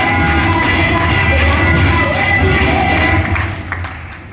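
A seminar audience in Gurgaon gives a loud, sustained burst of applause mixed with cheering, dense and continuous before it fades slightly at the end.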